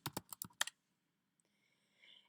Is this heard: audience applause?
no